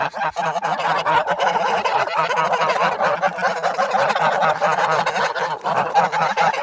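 A flock of geese honks loudly and continuously nearby, their overlapping calls forming a dense, raucous chorus with no pauses.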